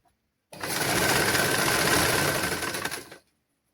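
A sewing machine stitches fabric during a basic tailoring lesson, running as one fast, steady burst of close mechanical whirring and clatter that lasts about two and a half seconds before it stops, with no talking.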